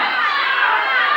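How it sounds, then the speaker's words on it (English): Crowd at a tag-team wrestling match, a brief burst of loud, steady shouting and cheering from the audience, dense and continuous with no single voice standing out. "You hear this crowd."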